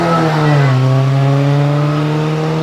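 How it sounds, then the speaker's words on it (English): Supercharged 1350cc straight-six MG Magna L1 vintage racer at a hill climb, its engine a steady, loud, close drone that dips briefly in pitch then holds a strong even note throughout. "That's Tim Robson in the Magna L1 Supercharged 1350cc 6-cylinder straight 6."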